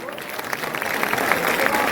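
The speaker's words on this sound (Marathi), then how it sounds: "जोरदार टाळ्या होत्या" A crowd at a Republican Party of India rally in Panvel, Raigad claps loudly to welcome Ramdas Athawale, a dense, sustained patter of many hands that swells slightly and carries on without pause.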